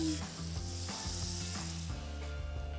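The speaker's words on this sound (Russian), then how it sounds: "И наслаждаемся приятным потрескивающим звуком." Butter and venison loin sizzle steadily in a hot frying pan, a dense crackling hiss with small pops running continuously, close and fairly loud, with no voices.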